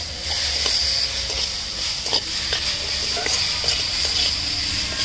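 Carrot paste hits semolina in a hot pan for a Bengali carrot langcha sweet, giving a steady frying hiss with scattered scraping stir strokes and small clinks, close and moderately loud with no talking.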